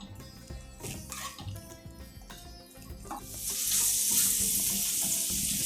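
Garlic, ginger and finely chopped onions hit about five teaspoons of hot oil in a pan, with stirring and scraping at first, then a loud, steady sizzle.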